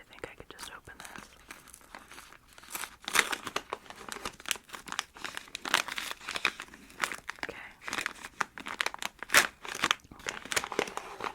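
A brown paper package is unwrapped up close, with irregular crinkling, rustling and tearing bursts of varying loudness, and soft whispered speech now and then.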